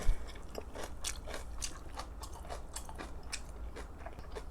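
Crisp, repeated bites and crunchy chewing of kimchi and whole Spam, close to the mouth in a steady rhythm with no talking.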